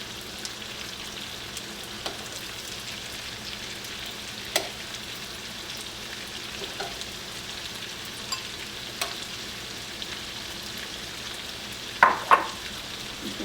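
Seafood sizzles and fries steadily in a pan at close range, a soft continuous crackle with a few sharper clinks and splashes near the end as mussels go in.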